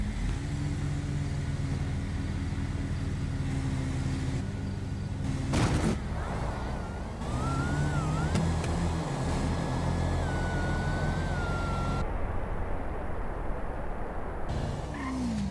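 Cars revving and accelerating hard in a GTA 5 roleplay street race, with a continuous loud engine drone that shifts pitch as the cars pick up speed, and no talk over it.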